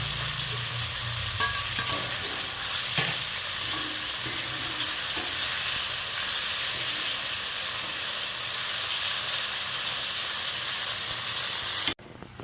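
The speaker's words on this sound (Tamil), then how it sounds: "தக்காளி தக்காளி நல்லா வதங்கணும்." Tomatoes sauté in a pan for a village-style brinjal and mutton kulambu, a steady close sizzle and hiss with occasional stirring scrapes, continuous for about twelve seconds before cutting off abruptly near the end.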